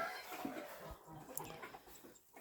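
A hen clucks near a coop enclosure among turkeys and chicks, a few short scattered calls over low farmyard murmur.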